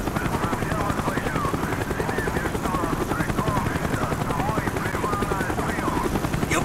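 A helicopter in the Call of Duty Black Ops video game: a loud, rhythmic rotor chop pulses steadily close by, with scattered game noise and murmured voices mixed underneath.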